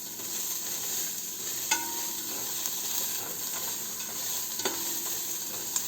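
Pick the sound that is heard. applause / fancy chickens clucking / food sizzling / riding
food sizzling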